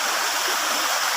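A river stream flowing steadily where people bathe, a continuous, fairly loud broadband rush of water with no pauses or voices.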